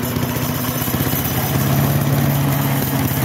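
A car engine with a bad air filter idles and is revved lightly, giving a loud, steady, close drone whose pitch rises slightly partway through.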